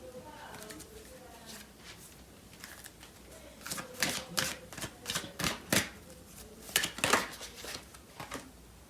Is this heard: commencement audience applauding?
no